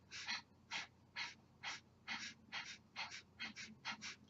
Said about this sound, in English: Inhale is passive, exhale is sharp and intentional.